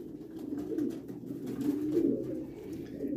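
Pigeons at a pigeon farm in Damietta, Egypt, coo in a low steady murmur, many birds together at moderate distance with no talk over them.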